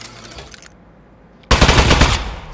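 Aperture Science Turret from the game Aperture Desk Job opens fire: a low hum, a short quiet pause, then a sudden loud, sustained burst of rapid machine-gun shots.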